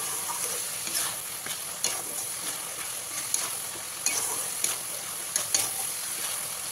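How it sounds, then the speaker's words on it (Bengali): A tomato and spice paste for chicken and potato curry is sautéed in a pan, giving a continuous soft sizzle with scattered light clicks of stirring, close by and with no voices. "মশলাটাকে ভালো করে কষিয়ে নিতে হবে, কারণ টমেটোর কাঁচা গন্ধ যদি থেকে যায় তাহলে গ্রেভিটার টেস্ট ততটা ভালো আসবে না"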